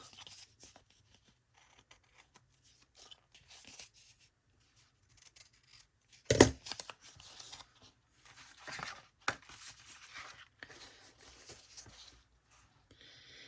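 Scissors trim a paper belly band for a junk journal, giving sparse, faint snips and rustles with one sharper, louder cut partway through and a few soft clips after, in a quiet room.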